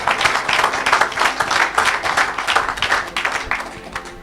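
A church congregation claps in praise of Jesus, a dense, rhythmic wash of many hands beating in time, fairly loud and close throughout.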